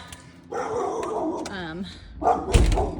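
Dogs bark and yip in a backyard behind a house, with a sliding, whining cry partway through and a louder burst near the end, close by and over a murmur of background voices.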